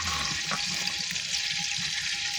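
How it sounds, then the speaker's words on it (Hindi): Whole spices crackle and sizzle in hot ghee for a moong dal masala, a steady, close, bright hiss with small pops running throughout, no voices. "ये देखें, घी हो गया गरम। अब इसमें हम डालेंगे मसाले"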